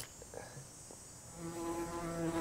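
A fly buzzes near the microphone outdoors during a game of tape measure golf, a thin whine that hovers faintly, then grows steadier and a bit louder toward the end, with no one talking.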